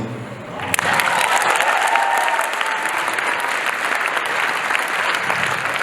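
Audience applause at a one-year anniversary performance of a fantasy musical, a dense, loud burst of clapping that swells in after a quiet start and holds steady throughout.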